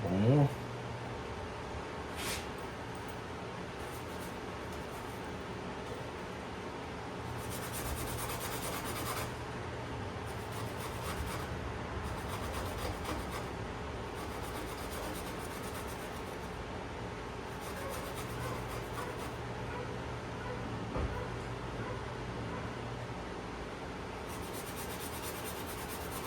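Transmission bolts from a Cowpie 4-speed gearbox for a Shovelhead are rubbed clean by hand, giving a steady scratchy scrubbing that comes in repeated bursts close to the microphone, with faint background noise throughout.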